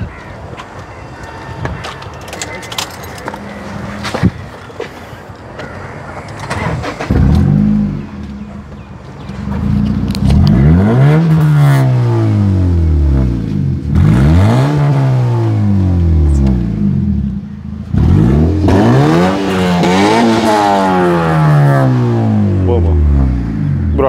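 Modified Honda Civic with a stock exhaust started up and revved repeatedly, loud rising and falling engine sweeps close by, with people talking in the background.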